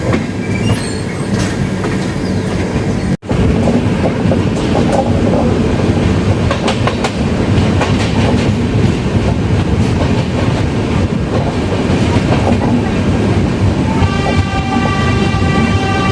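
The Uday Double Decker Express between KSR Bangalore and Coimbatore runs on its tracks with a loud, continuous clickety-clack and rumble heard from aboard, broken by one brief dropout and a thin wheel squeal toward the end.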